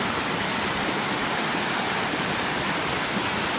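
A waterfall in a Kerala forest at Oruppan Kettu, Palakkad, pours in a steady, dense hiss of rushing water, constant and fairly close with no other sounds.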